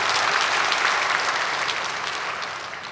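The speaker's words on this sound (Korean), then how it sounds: "다시 한번 감사 박수 드립니다." Church congregation at a 44th anniversary thanksgiving service breaks into sustained applause, a dense, even wash of many hands clapping that tapers slightly toward the end, with no voices over it.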